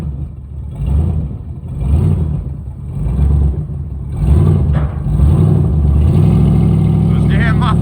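A C10 burnout truck's engine blips and revs repeatedly through loud mufflers, rising in pulses, then settling into a steady, throaty rumble near the mic.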